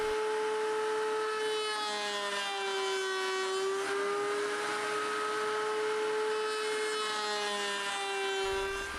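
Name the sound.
flush cutting router bit removing epoxy from wood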